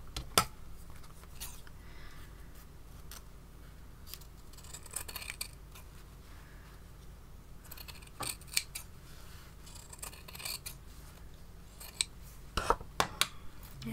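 Scissors snipping through satin fabric during a stitchery project, a series of soft, close, irregular cuts with short pauses between them in a quiet room.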